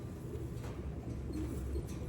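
Pigeons coo softly and repeatedly in a breeder's loft, with low, continuous murmuring calls layered over a steady background hum.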